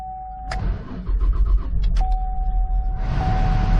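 A car engine cranks with a whining starter and a faint electronic tone, then catches and settles into a steady, close idle.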